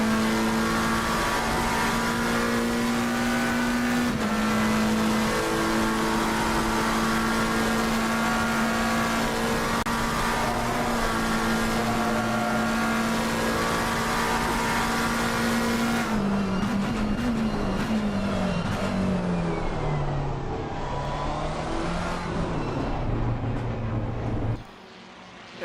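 A GT race car engine howls continuously and loudly, heard onboard during a golden-hour lap of the Spa 24 Hours endurance race. Upshifts break its sustained drone, then a run of downshifts and a falling pitch come as it slows near the end.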